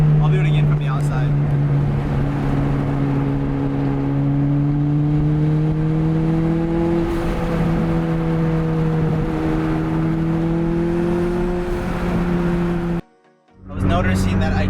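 A Toyota MR2 Turbo with an aftermarket exhaust idles and revs, heard from outside the car: a loud, steady drone whose pitch climbs and settles, then cuts out briefly before resuming.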